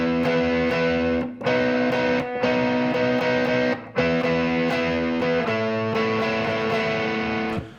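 Distorted electric guitar strumming chords on the fourth string and higher without bass notes, a loud sustained chord progression with brief gaps between chord changes.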